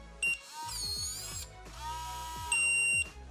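eufy security C220 smart door lock keypad and motor unlocking: sharp electronic beeps, then a whirring motorized bolt retracting with rising pitch, followed by confirmation tones, close and clear with no talking.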